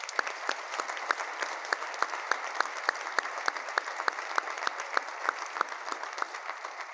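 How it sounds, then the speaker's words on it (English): An audience applauds honorees at a community awards celebration, a steady wash of many hands clapping with a few sharper claps standing out, moderately distant and continuous with no voices on top. "we're going to give a round of applause to all of our honorable mentions in that category."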